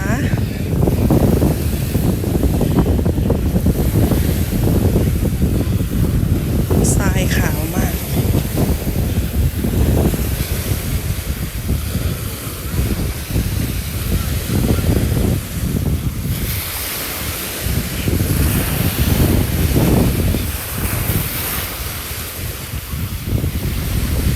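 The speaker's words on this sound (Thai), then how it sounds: "ตอนนี้เราอยู่กันที่หาดทรายแก้วสัตหีบนะคะ" Sea waves and wind at Haad Sai Kaew beach in Sattahip, Thailand: a constant roar of surf with gusty wind buffeting the microphone, surging and easing in loose swells throughout.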